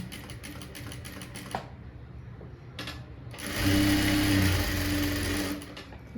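An electric sewing machine stitches a blouse panel in short runs, rapid close mechanical chatter that stops and starts, then a longer, louder continuous burst of stitching with no one talking.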